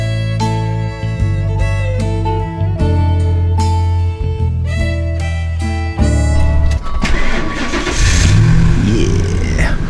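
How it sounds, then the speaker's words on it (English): A van engine cranks and catches after a jump start from a portable charger, then runs as a loud, steady idle with a low droning hum and a brief rev near the end. "Gonna jump start it real quick"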